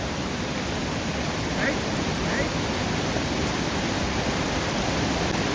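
Steady, dense rush of flowing water, like a fast stream or small cascade nearby where fish leap upstream against the current, continuous and unchanging throughout.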